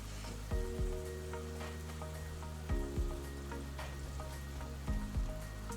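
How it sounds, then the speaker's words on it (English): A homemade perfume mixture boiling in a pot, with a continuous bubbling sizzle that swells every couple of seconds, heard up close and on its own. "Ooh, it's boiling."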